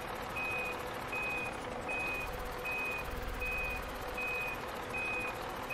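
Steady, evenly spaced reversing beeps sound from a bus backing up in the OMSI 2 bus simulator game, about eight pulses over a continuous low engine drone at moderate volume.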